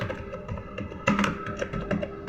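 Keys clacking on a computer keyboard during a basic computer lesson, a run of close, uneven taps with a few firmer strokes like the Enter key standing out.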